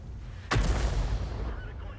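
Artillery fire from a tank in World of Tanks: a single sharp, loud gunshot blast with a rumbling low tail that fades over about a second and a half.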